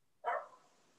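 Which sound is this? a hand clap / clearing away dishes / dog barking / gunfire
dog barking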